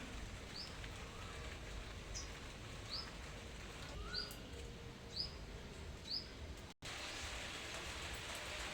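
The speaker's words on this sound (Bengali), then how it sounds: "আজকে বেশ ভালোই বৃষ্টি হচ্ছে দেখুন" Heavy rain falling outdoors, heard from a rooftop, a steady dense wash of noise with repeated short bird chirps above it and a brief dropout near the end.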